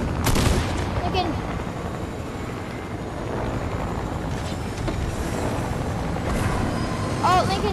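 Video game gunfire is aimed at a helicopter, with dense rattling shots layered over a constant roar of rotor and engine noise. The sound is loud and continuous, with a few sharper bursts near the start and end.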